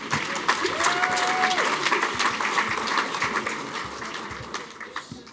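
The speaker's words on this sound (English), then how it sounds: "All right, give yourselves a round of applause." An education crowd at the City Club gives itself a round of applause, dense steady clapping that fades slightly toward the end, with a brief voice over it early on.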